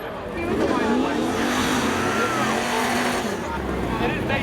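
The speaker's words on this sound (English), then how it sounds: "Two more cars rolling out." Drag race cars, a Chevy Camaro and a Pontiac Trans Am, roll out at Seekonk Speedway with a steady engine rumble and rising revs, heard under a loud announcer's commentary.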